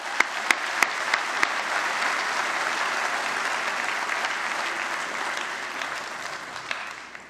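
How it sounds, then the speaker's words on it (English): Graduates at a Mohawk College convocation for the business, media and entertainment school clap in sustained, dense applause that fills a large hall, opening with a few sharp individual claps and easing off near the end. "So let's give yourselves a round of applause and celebrate a little."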